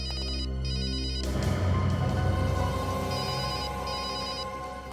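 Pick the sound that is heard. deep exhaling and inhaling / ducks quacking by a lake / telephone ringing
telephone ringing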